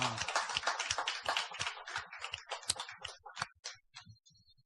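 Congregation at a Gethsemane prayer meeting in a church applauds to open the gathering, a run of sharp distinct claps that thin out and fade toward the end.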